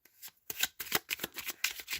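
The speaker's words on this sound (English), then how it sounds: "I don't know why I'm shuffling them because I'm doing it consciously" A deck of oracle cards is shuffled up close in quick, crisp riffling bursts that repeat in an uneven rhythm after a brief quiet start, with no voices.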